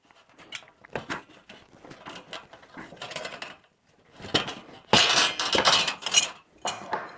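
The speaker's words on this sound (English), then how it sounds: "I'll start by using a pair of these Midwest snips with the stubby jaws, because they're tough enough to cut this tough metal" Midwest snips with stubby jaws cutting tough sheet metal, giving sharp metallic snips and clanks in irregular bursts, louder and denser toward the end, close with no speech.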